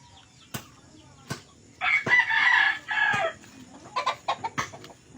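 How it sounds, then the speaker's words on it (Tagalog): Roosters and hens on a Philippine farm raising fighting cocks; a rooster lets out a loud, close crow, followed by a quick series of clucks, with sharp knocks heard between them. "Ito ang farm ni Papa, puro manok."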